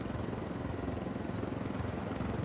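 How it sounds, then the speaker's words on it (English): Helicopter flying in the tactical shooter game Ghost Recon Wildlands, a steady, dense rotor and engine drone holding at an even level throughout with no voices. "you can bring up the helicopter and I'll try to halo in."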